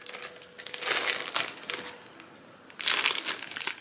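Tape being pulled and peeled off a taped skein of Premier yarn, giving bursts of crinkly tearing and crackling, loud near the start and again toward the end, with no talk.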